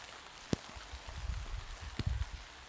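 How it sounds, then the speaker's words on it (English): Rain falls in a forest near an ancient white pine, a soft patter of drops with a couple of sharp close taps and a low rustle, fairly faint. "It's starting to rain pretty good."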